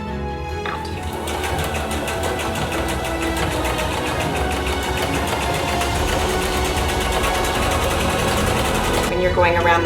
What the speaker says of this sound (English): then we're going to top stitch the bib